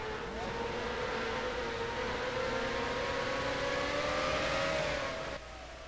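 Indy car in a racing video game at Lime Rock screams down the long front straightaway, a steady high-pitched engine whine holding near full throttle for about five seconds before cutting off abruptly.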